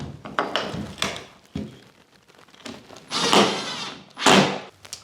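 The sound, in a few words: door being put on in renovated bathroom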